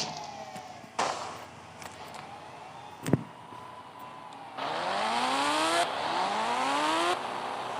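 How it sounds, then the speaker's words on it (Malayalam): A motorbike in the game Indian Bike Driving revs in rising engine whines that climb in pitch, swelling louder toward the end, broken by a sharp thud midway. "നമുക്ക് ബൈക്ക് എടുത്തിട്ട് താഴോട്ട് ഇറങ്ങാം."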